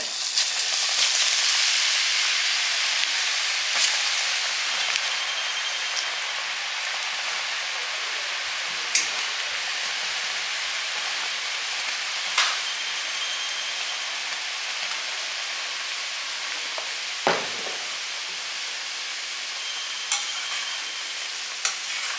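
Hot oil is poured over batter in a pan while making vada curry, producing a steady, broad sizzle and frying hiss that gradually settles, with a few faint clinks of utensils.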